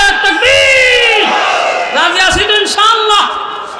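A crowd at an Islamic religious gathering shouts the takbir in loud unison, several swelling collective cries rising and falling in waves, one voice leading between them.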